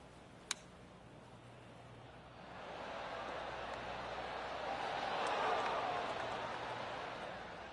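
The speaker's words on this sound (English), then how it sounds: "I can hear the golf claps around the course" Distant golf crowd applause spread around the course in the video game PGA Tour 2K25, a soft wash of clapping that swells and fades, preceded by a single sharp tick.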